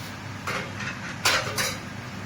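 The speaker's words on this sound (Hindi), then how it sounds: "तो हम ले लेते हैं कुकर का ढक्कन" A few metallic clanks and scrapes as a pressure cooker lid is handled, three or four short clinks over a quiet room hum.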